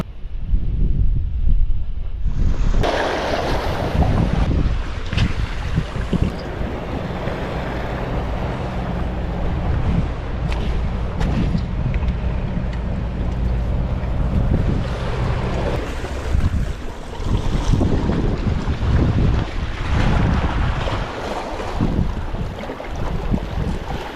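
Strong wind buffets the microphone at a waterside fishing spot, a steady loud roar with gusting low rumble and waves lapping throughout, no voices.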